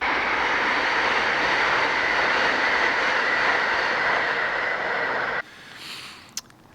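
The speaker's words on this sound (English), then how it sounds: "a train's just gone past" A loud, steady rumbling roar of a passing train that cuts off abruptly, leaving quieter ambience and a brief sharp knock.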